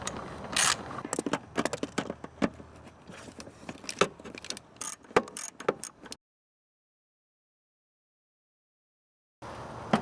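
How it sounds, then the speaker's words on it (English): A ratchet with a 10mm socket removing the air box on a Mazda RX-7, giving a close run of quick clicks, taps and metallic rattles for about six seconds, then dead silence and a faint steady hiss at the end. "First, we will take the 10mm socket to unhook the restrictive air box."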